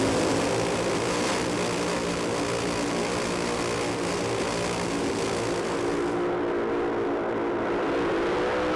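A drag racing car's engine roars loud and continuous as the driver works on and off the throttle, the pitch rising and falling slightly under heavy, unbroken noise.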